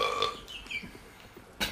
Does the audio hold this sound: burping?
yes